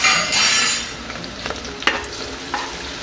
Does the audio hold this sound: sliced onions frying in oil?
yes